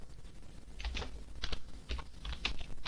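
Quick bursts of computer keyboard keystrokes while an article is typed, irregular clusters of clicks close to the mic over a low hum.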